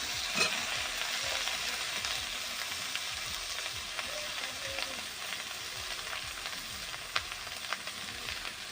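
Eggplant pieces fry in a pan of vegetable curry, giving a steady close sizzle with light stirring scrapes throughout.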